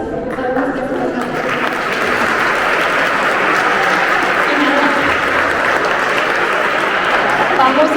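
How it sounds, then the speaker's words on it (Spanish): A large crowd applauds loudly and continuously at a university history department graduates' evening, a dense sustained wash of clapping with cheering voices mixed in throughout. "El aplauso es para ustedes."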